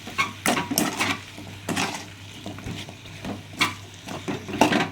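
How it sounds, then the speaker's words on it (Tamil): Brinjal pieces sautéed with salt in a pan, with repeated scraping and stirring strokes of a utensil against the pan in an uneven rhythm, close and moderately loud. "இப்போ கத்திரிக்காயை போட்டுட்டு நம்ம உப்பையும் போட்டுட்ருக்கோம். இதை கொஞ்சம் நல்லா வதக்கிக்கணும்."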